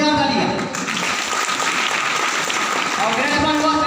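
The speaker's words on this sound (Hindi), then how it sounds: "उनके लिए एक बार जोरदार तालियां।" Audience applause at a Safe Shop business meeting in India, a loud dense burst of many hands clapping that carries steadily through, briefly overlapping a voice calling out at the start.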